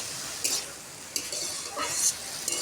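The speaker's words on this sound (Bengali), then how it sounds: "নেড়ে চেড়ে এভাবে আমি ঢাকনা দিয়ে ঢেকে দিচ্ছি কিছুক্ষণের জন্য।" Potatoes cooking in a pan get stirred with a few scraping clanks of a spoon against metal, then a lid goes on, all faint over a soft background sizzle.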